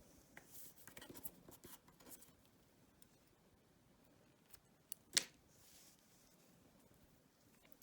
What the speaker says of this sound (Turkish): Şu arkadaki ipi keselim artık.